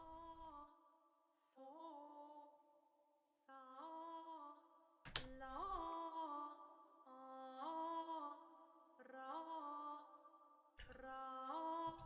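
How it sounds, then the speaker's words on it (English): Airy, sustained vocal pad from Auddict Calypso, a Kontakt sample library, heard alone as a string of soft held chords that swell and change every couple of seconds, with breathy onsets between them. "ambient vocal sound or something like that. It sounds like this."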